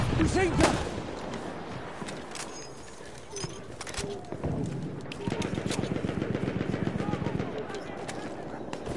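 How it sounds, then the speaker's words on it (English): Enemy machine gun fire in a WW1 first-person shooter, rapid bursts rattling steadily through the second half amid a dense battlefield din, with scattered shots and bird-like calls earlier. "there's an enemy machine gun!"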